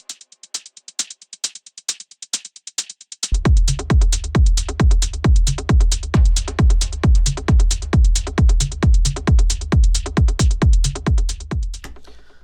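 A crusty, layered hi-hat groove from a techno track. It opens with bare, crisp ticks, then a heavy kick joins and the two pound on in a steady, driving pulse before cutting off at the end.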